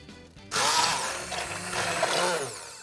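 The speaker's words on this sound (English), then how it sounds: "so lucky we have an immersion blender" An immersion blender whirs loudly and steadily as it purees enchilada sauce, starting abruptly after a brief pause and holding a dense, buzzing roar with slight wobbles in pitch as it churns.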